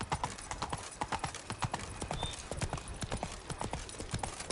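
Roach, Geralt's horse in The Witcher 3, gallops with steady, rapid hoofbeats clopping close and clear in an even rhythm throughout, alone without talk.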